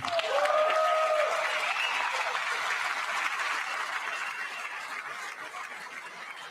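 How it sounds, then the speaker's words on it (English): Applause fills a Congress chamber during a State of the Union address, a broad wash of many hands clapping at moderate distance, gradually fading over a few seconds with no talk. "I wasn't sure if anybody even on this side was going to applaud for that."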